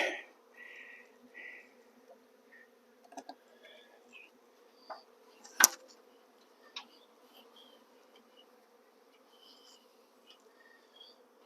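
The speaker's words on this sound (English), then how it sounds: "All those bees hauling pollen going, hey, where do we drop the load?" Honeybees hauling pollen around a moved box of hives make a steady, soft, low buzz throughout, with a few sharp clicks and brief louder wingbeats close by.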